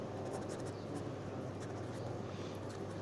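Pen scratching steadily across paper while a fluid mechanics derivation is written out, a close, continuous faint scraping with a soft background hum.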